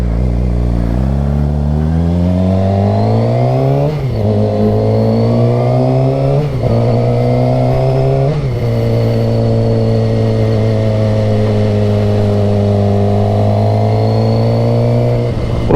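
Motorbike with a faulty exhaust revving loudly and continuously, engine pitch rising in steps as it accelerates and shifts, a rough buzzing rattle running under the whole pass with no talk.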